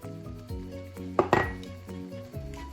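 Peas stirred into cabbage and potatoes in a pot, a spoon clinking and scraping against the metal in quick, irregular knocks, close, with one louder clatter midway and no talk.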